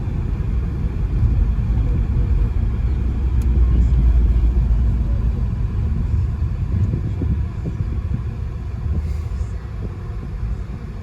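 An Audi A6 engine idles with a steady low rumble that swells somewhat as it is revved, then settles back, heard close with no one talking.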